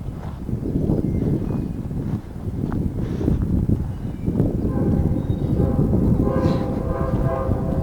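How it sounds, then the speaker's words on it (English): Amtrak passenger train passing near a rail yard in Prince, West Virginia, a loud rumbling roll of wheels and engine with rhythmic clatter over rail joints, steady and close, with a brief horn-like tone near the end. "Yeah, that's Amtrak."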